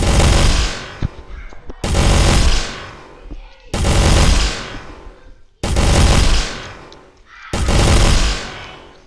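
Rapid gunfire in a video game is driven by an auto clicker, coming as five loud, dense bursts of continuous shots, each about a second and a half long, separated by brief pauses.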